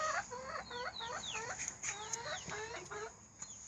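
Several Orpington chickens cluck in quick, overlapping bursts at close range, with a few higher squawks in between.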